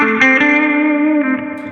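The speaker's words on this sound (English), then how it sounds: "you can hear that reverb is coming from the Dark World underneath the tier there" An electric guitar chord rings through a Dark World reverb pedal on a pedalboard, with a few quick picked notes at the start before one long sustained tone and a wash of ambient tail that slowly fades.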